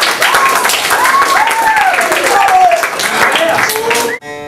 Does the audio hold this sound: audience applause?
yes